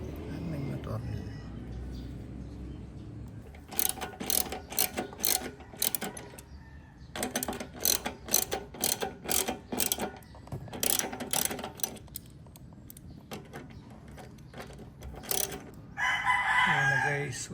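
Screws being loosened and removed one by one from the body panels of a Kymco Xciting 400s scooter, a series of rapid ratcheting clicks in bursts with pauses between, close up, with someone talking intermittently.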